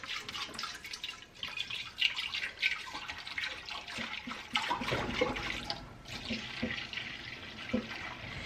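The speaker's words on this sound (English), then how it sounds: "I'm going to pour all my milk." Milk is poured into a big pot on the stove for making queso fresco, a continuous gurgling, splashing liquid stream with irregular drips and sloshes, fairly close and without talk.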